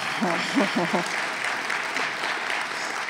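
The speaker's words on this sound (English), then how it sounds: "Yes, you can clap." Steady applause from an audience at a lecture series breakfast fills the space, with a short burst of talk over it at the start.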